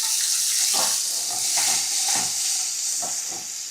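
Soaked chana dal frying in a pan with mustard seeds, giving a steady bright sizzle with soft stirring scrapes throughout; no voices.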